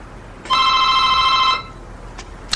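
A telephone rings once with a bright, steady electronic trill lasting about a second, close and clear over a quiet room.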